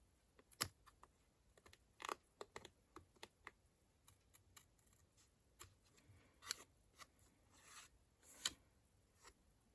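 Small snips trimming paper for a handmade mini album, giving a scattering of crisp, close cuts and clicks spread irregularly over several seconds against a quiet room background.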